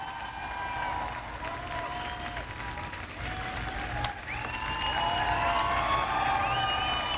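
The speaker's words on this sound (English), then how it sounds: "You see the Vice President patting his heart in an expression of gratitude for the cheers and applause that he is receiving as he leaves." A large crowd cheers and applauds as Vice President Gore leaves after his 2000 election concession speech, sustained clapping with whistles and shouts, swelling louder toward the end.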